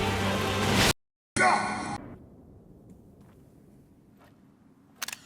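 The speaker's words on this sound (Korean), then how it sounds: "중간에 찰칵찰칵 사진 좀 찍겠습니다 썸네일 만들어야 돼요" Two quick camera-shutter clicks land near the end while screenshots are captured from Elden Ring gameplay of a melee fight against Malenia. Before them come a loud burst of game sound, a short silence and quieter background noise.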